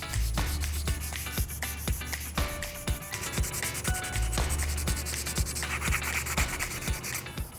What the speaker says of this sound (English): I'm gonna get to sanding.